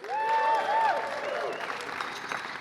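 An audience at a lightning-talk stage event applauds in a steady, moderately loud wash of clapping, with a voice and a tonal sound rising above it in the first second.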